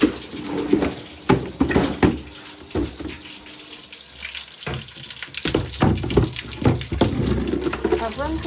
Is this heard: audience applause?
no